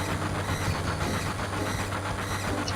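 A train rumbles along in the video game Final Fantasy VII with a steady low drone and rhythmic clatter, mechanical and continuous, with faint beeping-like tones layered on top.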